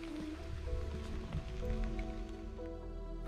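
Light rain falls during a sunny motorcycle trip on a gravel mountain road in Sweden, a soft, steady patter that stays faint and even and is set over a low background hum.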